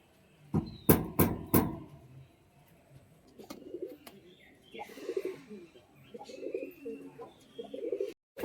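A pair of desi Giribaz pigeons of the Kathlal colour gives low, rolling coos in several soft bursts, following a few sharp knocks or clicks at the start, with some talking nearby.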